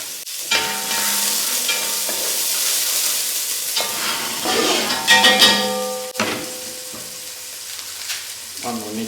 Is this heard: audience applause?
no